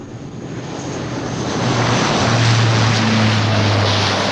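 Aircraft engine noise plays from an arrivals and departures DVD, a steady loud rushing roar that builds after a couple of seconds and carries a low droning hum.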